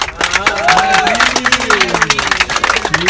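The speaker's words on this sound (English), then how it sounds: "Give a round of applause for our drive team today for doing a fantastic job." Audience applause and cheering for a competition drive team, a dense, steady wash of clapping with voices and shouts over it throughout.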